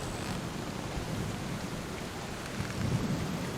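A thunderstorm sound effect plays during a tabletop role-playing session set aboard a ship: continuous heavy rain hisses with a low rolling rumble of thunder building near the end, and no one speaks.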